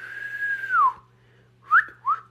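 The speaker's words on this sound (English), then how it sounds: "Oh, no, I'm not supposed to whistle," A person whistles near and clear at an acrylic nail session: one long held note that slides down, a pause, then two short rising chirps.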